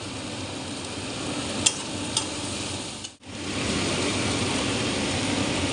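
Peas drop into melted butter in a pan, raising an even, continuous sizzle with a couple of faint clinks, a brief dip in the middle, then steady frying again.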